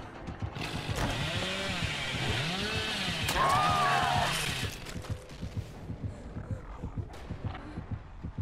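Hillbilly's chainsaw in the video game Dead by Daylight, a revving, warbling buzz that rises and falls for several seconds, then cuts to quieter rhythmic thumps.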